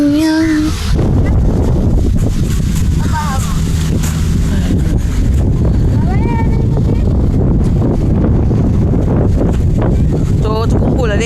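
Wind blows outdoors on a jog at Tanjung, keeping up a constant loud rumbling buffet against the microphone while people talk over it.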